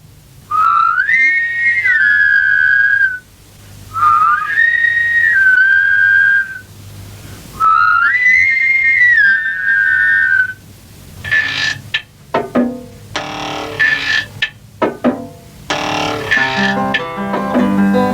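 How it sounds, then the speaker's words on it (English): A company of people whistles on command in several bursts of loud, wavering rising and falling phrases, followed by scattered clattering and ringing noises, from the 1966 stop-motion series Camberwick Green. "so many people whistling is sure to work."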